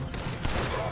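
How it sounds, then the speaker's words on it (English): Rapid gunfire from two revolvers fired at once in Red Dead Redemption 2, a dense, continuous burst of overlapping shots that fills the whole second at close range. "Doesn't matter. Just keep shooting."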